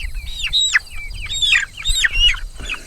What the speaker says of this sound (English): So this is a rooster.